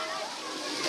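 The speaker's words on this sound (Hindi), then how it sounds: "यहाँ पर पानी की जो गिर रहा है" Water falling into a deep pool at Jatashankar Dham in Chhatarpur, Madhya Pradesh, a steady broadband rush and splash heard up close, continuous throughout with a slight swell at the end.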